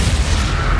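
The Expulso spell from Hogwarts Legacy sets off a loud, booming blast that stays dense and sustained through the short burst.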